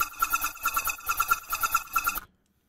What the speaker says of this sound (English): So I added this little element. So it's actually like a vocal chop.